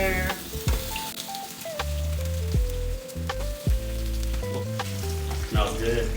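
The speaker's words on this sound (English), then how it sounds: "You're going to let that sizzle and get hot." Salsa ingredients sizzle loudly in a hot pan, with stirring and occasional clinks of a utensil against the pan.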